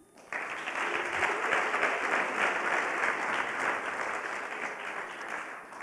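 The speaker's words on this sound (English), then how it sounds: "let's give them a round of applause, but you guys have been great with that" An audience at a Western States pre-race trail running clinic breaks into loud, sustained applause that starts abruptly and holds steady for several seconds, with the claps dense and close.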